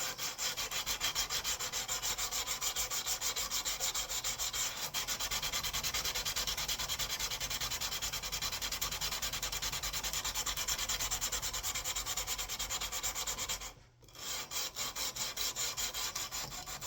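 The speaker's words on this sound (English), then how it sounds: "A little bit of WD-40. Helps break up the carbon as I sand." Metal wetted with WD-40 is sanded by hand to break up carbon, with a steady rhythmic rasping of close strokes that breaks off briefly near the end and then goes on, with no talk.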